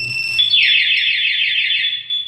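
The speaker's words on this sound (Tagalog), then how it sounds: "Mag-alarm na po siya." Two-way alarm on a Honda ADV 160 motorcycle sounds a loud, close electronic siren, a steady high warbling tone that sweeps continuously for the full length with no voices.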